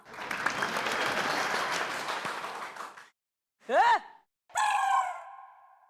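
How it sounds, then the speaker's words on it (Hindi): A studio audience claps in a broad, steady burst of applause lasting about three seconds, then falls silent; two short vocal exclamations follow, one sounding like a sigh or gasp. "अरे बजाओ ना तालियां"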